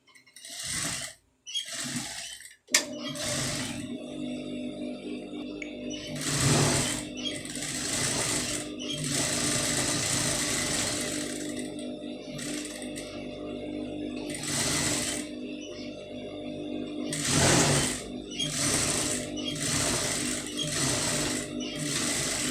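A sewing machine stitches a scallop design onto a blouse sleeve, running in a steady continuous whir with a few brief pauses and restarts near the start, loud and close with no talking.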